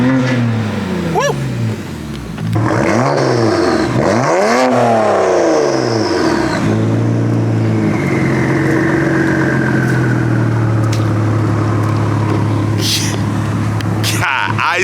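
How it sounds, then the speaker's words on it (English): A BMW E92 335i with a loud aftermarket exhaust revs hard from inside the cabin, with repeated rising and falling sweeps followed by a sustained steady drone, loud and close, with people talking over it. "This is a real loud exhaust, way louder than the M4."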